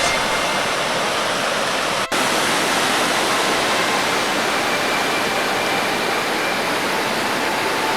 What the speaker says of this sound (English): So, here is the waterfall. The first glimpse of Vernal Fall as you hike up.